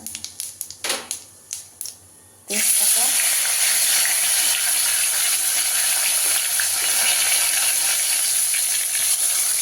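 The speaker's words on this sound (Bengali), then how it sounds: "যে গোটা জিরে ফোড়ন দিলাম" Whole cumin seeds dropped into hot oil in a kadai burst into a loud, steady sizzle that starts abruptly after a few soft taps and continues close and unbroken.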